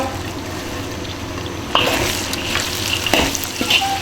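Green chili peppers stir-fried with chicken in a wok, a loud steady sizzle with scraping stir strokes and clatter as the peppers are tossed, with no talking.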